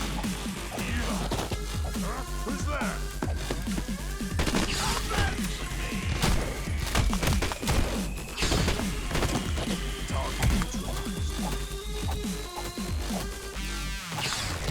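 Dense, loud Madness Project Nexus action in a foundry level with crashing impacts and explosive bursts, layered over continuous music and effects throughout.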